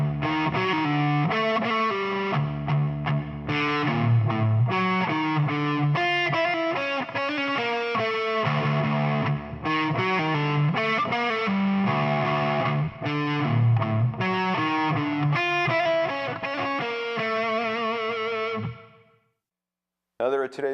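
Heavily distorted electric guitar plays a metal riff at a slow tempo, loud and steady with ringing harmonics and chugging palm-muted notes, then cuts to brief silence near the end before a short restart.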